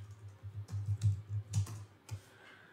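Quick bursts of key presses on a computer keyboard while editing code in STM32 CubeIDE: a short, uneven run of close, soft clicks with brief pauses and no voices.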